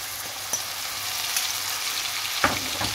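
Flour-and-water batter for chicken breast sizzles in a pan with a steady bright frying hiss, broken by a few sharp crackles and light stirring clicks, close and unaccompanied by speech.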